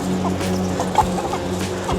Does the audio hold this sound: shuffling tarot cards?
no